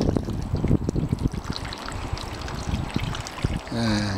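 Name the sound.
water pouring down allotment guttering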